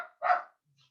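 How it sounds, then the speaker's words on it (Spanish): A small pet dog lets out a single sharp bark indoors, brief and fairly close, followed by near silence. "mi perrito está ladrando"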